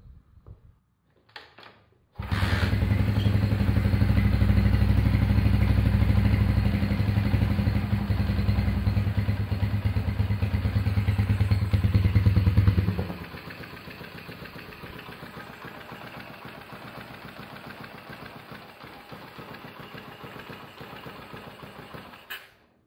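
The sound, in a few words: restored Honda CB100 K0 1970 motorcycle engine running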